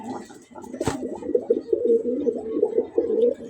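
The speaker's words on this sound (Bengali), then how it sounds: "দেখেন ডাকগুলো কত সুন্দর।" Pet pigeons coo close by in a continuous, rolling murmur of throaty calls, with one brief clatter of movement early on.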